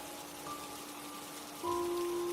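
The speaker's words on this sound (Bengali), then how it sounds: "সকাল থেকে টিপটিপ বৃষ্টি পড়েই চলেছে" Soft, steady patter of light rain falling, a constant gentle hiss with no voices, slightly louder toward the end.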